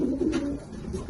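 Racing pigeons coo at the loft after returning from a hard young-bird national race flown into a headwind, a soft low continuous burbling close by with no talk over it.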